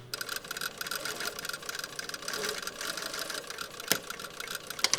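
A sewing machine runs a seam on a shirt cuff at a short stitch length, giving a quiet, fast, steady mechanical whirr with small clicks and one sharper knock near the end, with no talking.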